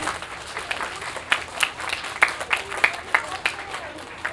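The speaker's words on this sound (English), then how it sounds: "let's give them another round of applause" An audience at the Walter M. Senkow school winter concert claps, with crisp individual hand claps standing out over a softer crowd wash at a lively, uneven pace.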